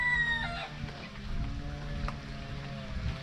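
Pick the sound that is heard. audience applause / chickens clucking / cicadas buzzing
chickens clucking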